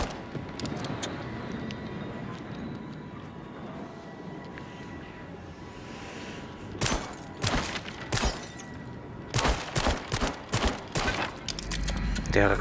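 Gunfire in the VR video game Switchback VR starts after a stretch of rumbling background, then comes as loud, sharp bursts of rapid shots in clustered volleys.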